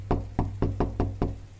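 Six quick, evenly spaced knocks rap on a door, close and firm, with no voices over them.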